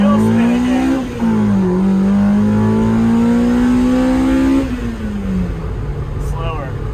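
A Mazda Miata M2 accelerates hard with wheel spin, its engine note rising steadily and loudly up close before a gear change, then settling lower with talking over the end.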